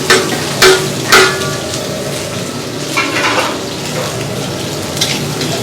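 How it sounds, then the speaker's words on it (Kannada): Chopped onions fry in hot oil in a pan for a chinna masala, giving a steady close sizzle broken by a few sharp clatters of stirring. No one speaks. "ಈರುಳ್ಳಿ ಎಣ್ಣೆಯಲ್ಲಿ ತುಂಬ ಚೆನ್ನಾಗಿ ಬಾಡಬೇಕು"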